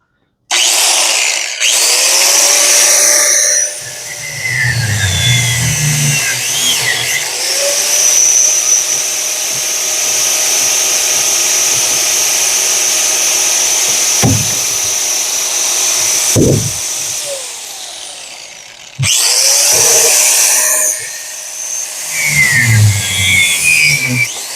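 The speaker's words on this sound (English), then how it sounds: "I almost set the grinder right on the cord." A grinder whines loudly in bursts, spinning up and winding down between stretches, with one long steady run in the middle of the clip during scrap metal work.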